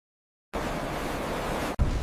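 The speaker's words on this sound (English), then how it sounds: "Waves crash relentlessly over the bow, hammering the vessel as the crew holds steady." Waves crashing over the bow of a deep-sea longline fishing boat hunting swordfish: after silence a steady loud wash of water and spray begins, broken by a short gap and a heavy thump.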